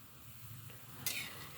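Ground pork with tomato, garlic and ginger sautés quietly in a pan, a low steady sizzle broken by a brief scrape of stirring near the end.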